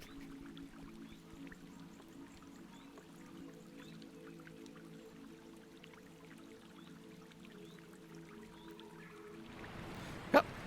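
Waterfall and splashing water in a video game play as a steady, soft rush with faint drips throughout, rising to a brief louder splash near the end, with no talking.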